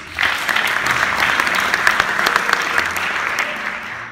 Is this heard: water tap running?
no